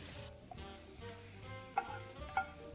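Shiitake and straw mushrooms sauté in a pan with a soft, quiet sizzle, interrupted by a few light clinks and scrapes of stirring, close and without talking.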